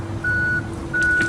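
A 2013 Hyster N35ZR stand-up reach forklift with a 3,500 pound capacity sounding its reversing alarm: two loud, steady electronic beeps in quick succession over a low hum, with no talking.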